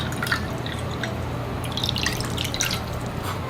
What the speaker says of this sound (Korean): 생수 200ml 컵으로 한 컵 반만 네, 부으세요.